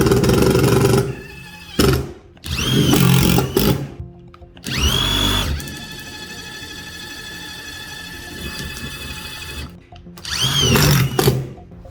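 A Festool TID-18 impact drill drives a fastener through soft wood into steel, sounding as loud whirring bursts and rapid impact hammering, with a long steady mechanical whine in between and a final burst, close to the listener.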